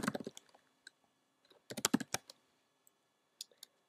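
Code is typed on a computer keyboard for an Xcode UISwitch tutorial: a quick run of soft, close key clicks, then a second burst after a pause and a few scattered taps, quiet with no talk.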